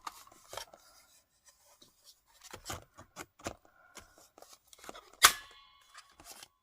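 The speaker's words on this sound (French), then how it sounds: "c'est une perforatrice de coin" A corner punch cuts through cardboard in a few sharp, close clicks and crunches, with one loud snap near the end and quiet handling noises between.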